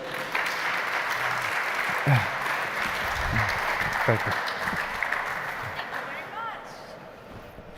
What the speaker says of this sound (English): A huge applause for Markus Plitsch and Julian Wokirk.